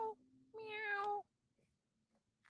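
A cat meows loudly and close by in a long rising-falling call after a shorter first cry, followed by near silence. The meow may be a person's vocal imitation on a live call.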